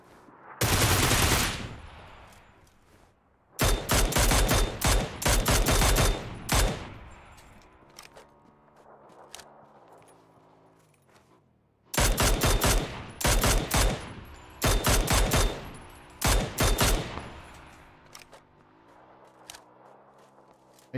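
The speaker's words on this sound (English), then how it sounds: "He's too busy shooting at this other guy." Gunfire in PUBG on PS4 as players shoot at each other: loud, rapid bursts of automatic fire come in several volleys, with quieter ambient game sound between the bursts.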